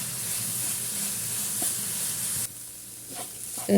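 Jaggery syrup being stirred and cooked down in a pan on a gas stove, a steady close sizzle and bubbling hiss with occasional scrapes, quieter toward the end.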